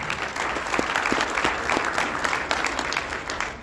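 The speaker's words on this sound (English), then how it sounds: "Give them a round of applause" Audience applause at the 2021 State of the City address in Atlantic City, a dense, steady round of clapping from a sizable crowd that holds loud throughout.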